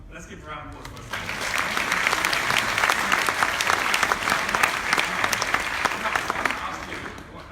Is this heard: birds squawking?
no